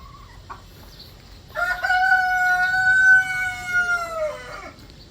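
A rooster crows a long, loud drawn-out call at close range, with soft hen clucks before it in a backyard flock kept for eggs; no voices.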